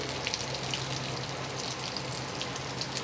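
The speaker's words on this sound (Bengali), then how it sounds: "ফিশ ফ্রাইগুলো আমার ভাজা হয়ে গেছে সুন্দরভাবে" Steady crackling sizzle of fish pieces frying in hot oil, close and continuous, with scattered pops and spits throughout and no voices.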